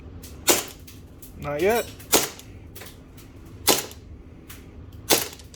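Tokyo Marui Series 70 nickel-plated 1911 Government Model airsoft pistol fired at a target about 4 yards away; four sharp, close, evenly spaced cracks, with someone speaking briefly between shots.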